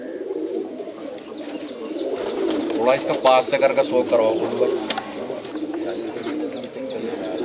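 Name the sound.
black racing pigeons cooing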